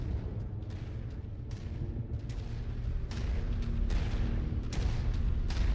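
Repeated explosions and weapon blasts in the MechWarrior 5 mech combat game, a dense rumbling barrage of booms and bursts that grows louder toward the end, with no talking.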